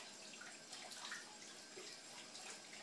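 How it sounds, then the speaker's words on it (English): Water runs steadily from a tap into a sink while someone washes their hands, a faint, even splashing rush with no talk. "I'm going to go wash my hands."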